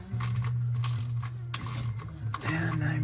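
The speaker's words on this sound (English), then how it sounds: "So I've got my ratchet here." A hand ratchet rapidly clicks as it tightens the transmission plug on a 1978 MGB, close and crisp over a steady low hum, in a few bursts of clicking.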